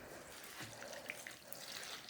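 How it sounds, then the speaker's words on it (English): Water is poured from a can into small indoor pots of flowering plants in a conservatory, a faint soft trickle and splash with a few light drips, heard alone. "Let me just give these a bit of water as well, because these are in quite small pots."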